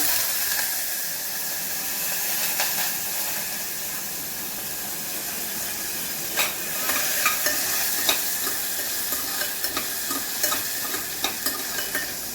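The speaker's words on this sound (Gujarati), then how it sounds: "ખાલી હું બટેટું નાખીને જ વઘારીશ એના માટે. એમાં હું હિંગ નાખું છું" Potato pieces and asafoetida sizzle as they temper in a hot pan, a steady close frying hiss broken by the clicks and scrapes of stirring.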